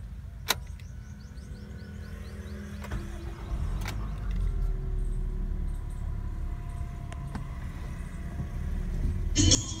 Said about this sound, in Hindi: अब करते हैं गाड़ी स्टार्ट।